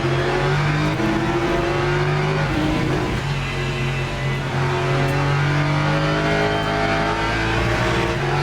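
Race car engine under throttle in Le Mans Ultimate, a rainy race, a loud continuous high-revving drone holding steady with slight pitch shifts and faint tyre noise, no voices over it.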